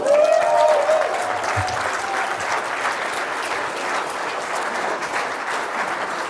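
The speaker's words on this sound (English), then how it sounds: "Keep clapping" A comedy club crowd claps and cheers for a comedian being introduced, a loud sustained wash of applause throughout, with a brief whistle at the start.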